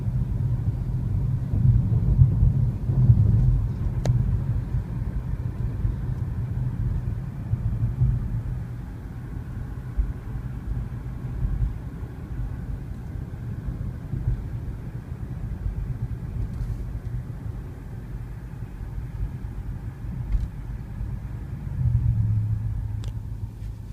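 Interior ride-along in a BMW i3 electric car at a BMW dealership in Traverse City, with a steady low road rumble and tire hum throughout, briefly louder near the start and end, and no talking.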